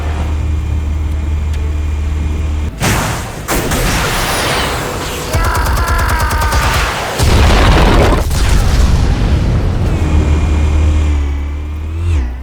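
A loud explosion in the Batman Telltale Series video game booms through heavy low rumble with a sharp burst near the third second, followed by several more blasts and crackling debris over the twelve seconds, with no one speaking.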